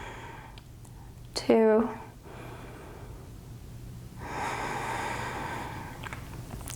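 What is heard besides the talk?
deep inhale and exhale breathing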